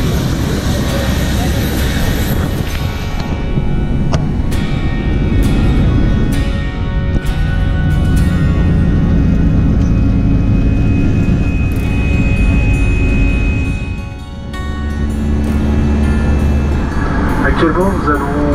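Cabin noise aboard an airliner in flight over Barcelona: a loud, steady broadband roar and rumble that dips briefly twice, with voices heard over it.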